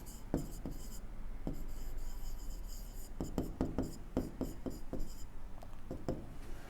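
Marker or chalk scratches and taps across a board in a graph-coloring lecture, with quick stroke bursts and clicks over a steady room hum and no speech.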